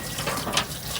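Fuel gushes steadily from the broken drain of a 1962 Ford Falcon fuel tank, a close, continuous liquid pour lasting about a second.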